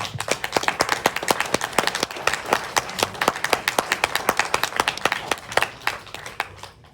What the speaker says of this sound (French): j'ai envie qu'on l'applaudisse très fort